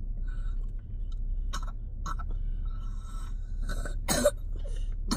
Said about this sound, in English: he coughing in his sleep